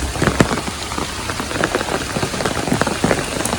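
Heavy morning rain pours down in a dense, continuous patter of drops striking surfaces, loud and close with no one speaking.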